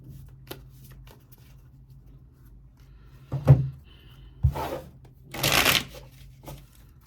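Tarot cards are shuffled close by in a quiet room, with a few short riffling bursts and soft taps between them.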